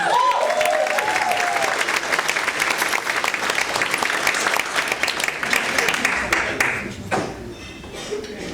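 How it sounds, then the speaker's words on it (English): Loud, dense audience applause at a charity dance gala, a steady wash of many hands clapping for about seven seconds before thinning out near the end. "Give them a round of applause."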